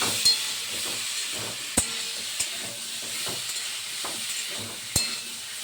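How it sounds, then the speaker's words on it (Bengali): Pumpkin and potato curry sautéing in a pan, a steady soft sizzle with periodic scraping stirs and a few sharp clanks of the spatula against the metal. "ভালো করে একটুখানি কষিয়ে তারপরে"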